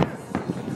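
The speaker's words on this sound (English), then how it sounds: "These are seriously the most fireworks I've ever seen." Fireworks bursting during a big Chicago fireworks show: a few sharp, fairly distant pops and bangs spaced out over under a second, heard amid crowd noise and voices.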